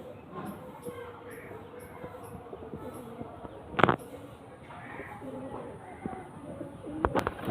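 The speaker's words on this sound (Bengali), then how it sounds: "ফ্রেন্ডস দেখুন এই যে পায়রাগুলো" Domestic pigeons coo softly and steadily in the background at a home loft, with a couple of sharp clatters and faint talk nearby.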